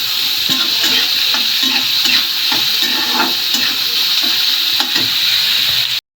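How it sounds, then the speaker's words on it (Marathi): Onions frying in oil in a pan, a loud continuous sizzle with rhythmic stirring scrapes right up close, stopping abruptly at the end. "कांदा पण चांगला तेलामध्ये भाजू द्यायचा"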